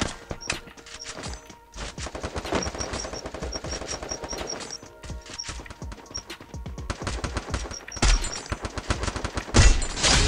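Video game shooter gunfire pops in rapid automatic bursts and single shots nearly nonstop, loud and close, with sharp clicky impacts layered through the mix.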